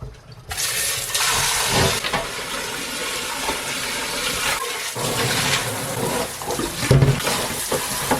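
Running water pours steadily into a cooking pot as it is rinsed clean of residue after boiling beef short ribs, a continuous close rushing splash with small clatters and knocks of handling partway through.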